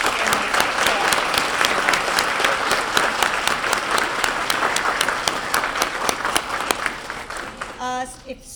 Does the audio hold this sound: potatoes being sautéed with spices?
no